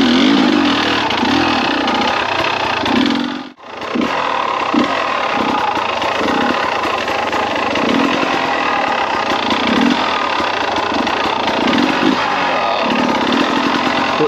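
Beta 300RR two-stroke enduro motorcycle with new 12/50 sprockets, engine buzzing and revving loudly and steadily, with one brief cut in the throttle early on before the rasping drone resumes at full volume.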